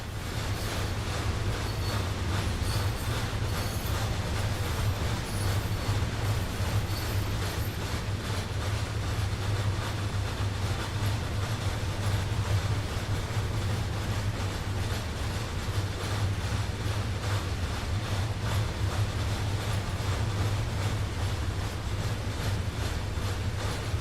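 Train Sim World 2 locomotive running on the Arosa line, a steady, continuous rumble of rolling rail stock with a constant low drone throughout, no voices.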